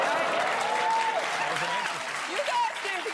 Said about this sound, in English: you can clap all you want